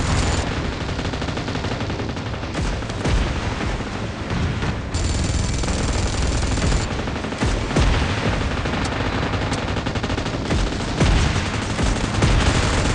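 Dense, continuous vehicle-mounted gunfire in the mobile game PUBG Mobile, with rapid automatic bursts and booms layered over a loud, unbroken combat din.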